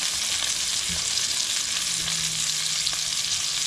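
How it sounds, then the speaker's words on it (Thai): Eggplant fries in butter in a pan with a loud, close, continuous sizzle, broken now and then by faint taps and stirring sounds, with no voices. "จะเริ่มใส่ผัก ทอดเนยแล้วนะคะ เริ่มจาก ผักที่สุกยากก่อนเลยมะเขือม่วงค่ะ"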